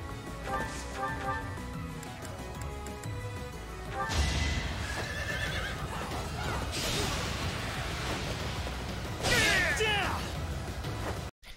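Fire Emblem: Three Houses game audio with a horse whinnying loudly several times during an attack, clopping hooves, and sharp whooshes and impacts mixed in a busy, continuous scene.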